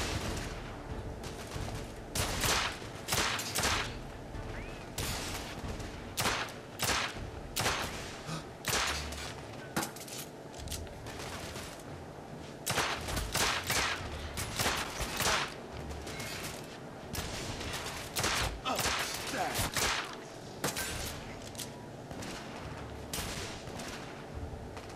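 Video game gunfire in The Order: 1886, a long stretch of repeated sharp shots and volleys in irregular bursts over a constant background din, with no talking.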